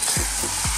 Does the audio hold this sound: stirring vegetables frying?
yes